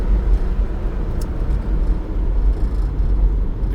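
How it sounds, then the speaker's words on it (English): A Honda car engine lugging down at low speed in 5th gear, a steady deep rumble with road noise, loud and close, continuous throughout with no talk. "we're going to slow it way down here in 5th gear"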